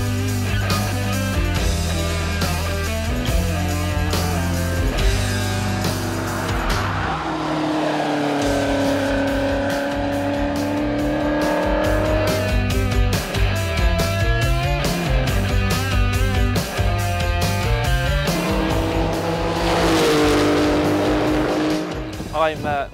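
A rear-engine Porsche race car revs hard and shifts through gears repeatedly on a track during a test day, rising and falling pitch up close, with brief squealing tires, sustained and loud.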